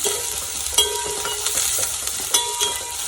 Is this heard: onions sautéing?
yes